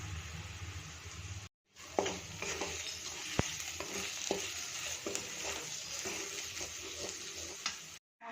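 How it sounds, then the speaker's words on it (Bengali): Spices with turmeric and salt fry in a pan over already-fried potatoes, a soft steady sizzle broken by stirring scrapes and light spoon taps, quiet and close with a couple of brief cut-outs. "মশলা আমার ভাজা ভাজা হয়ে গেছে"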